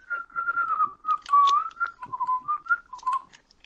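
A loud whistle blown in long, wavering bursts, piercing and close, repeated in a steady stream with short gaps and no talking.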